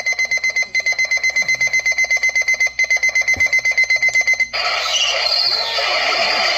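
Very loud alarm clock ringing in a fast, steady pulsing beep that runs for several seconds, then switches to a harsher continuous shrill buzz near the end.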